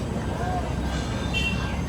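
Continuous low rumble and clatter of a train, with faint metallic squeals, heard from close by as steady background noise and mixed with voices.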